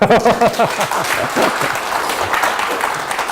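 Applause from a lecture audience during a professor's talk at a training session in Jeju. A voice is heard briefly at the start, then a broad wash of clapping carries on to the end.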